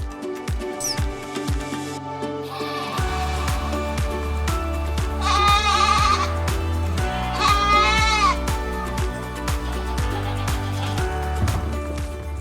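Mongolian cashmere goats bleat in wavering cries over a steady rhythmic backdrop of music or machinery; two prominent bleats stand out clearly amid the continuous layered sound.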